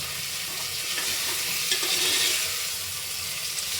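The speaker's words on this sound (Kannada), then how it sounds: "ನೆಕ್ಸ್ಟು ಪುದೀನವನ್ನು ಹಾಕಿ ಅದನ್ನು ಫ್ರೈ ಮಾಡ್ಕೋಬೇಕು" Mint leaves fry in hot oil in a pan for chicken pulao, giving a continuous, even sizzle close by with faint stirring movement and no voices.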